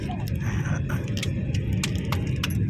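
A car drives along with a steady low engine rumble and road noise inside the cabin, while people talk intermittently over it.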